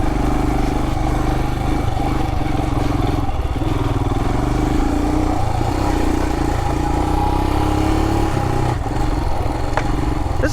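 A 2021 Royal Enfield Himalayan BS4 motorcycle drones loudly and steadily while being ridden, the engine thrum close and constant with occasional clatter and wind over it.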